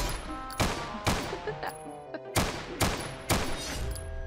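Bursts of gunfire from a Brazilian video game, five or six loud broadband shots spaced roughly half a second apart over a steady low game-ambience bed, with no talk.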